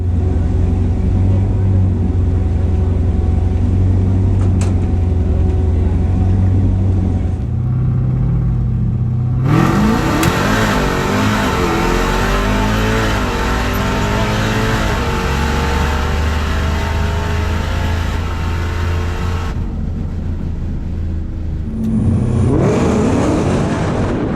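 A Dodge Challenger Scat Pack and a Dodge Demon launch in a drag race, their engines roaring loudly as they accelerate hard, then revving and fading with a steady rumble throughout, with people talking over it.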